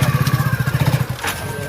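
A motorcycle engine turns over in a rapid, steady pulsing chug for about a second, then cuts out into a brief clatter as the kick or starter attempt fails to catch, close and fairly loud.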